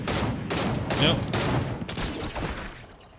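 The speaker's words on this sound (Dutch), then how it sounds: "ik moet alleen even weten waar die schoten van net vandaan kwamen" Bursts of gunfire in Fortnite, several rapid volleys in close succession with brief gaps, loud and near, while a player briefly speaks over them.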